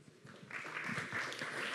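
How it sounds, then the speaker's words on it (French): Audience applause at a Saturday-morning public debate on the Garonne river and Toulouse: a faint murmur gives way to steady, sustained clapping from a crowd that fills the room after the first half-second. "Nicolas Bastuc, journaliste au Point, sous vos applaudissements, mesdames, messieurs."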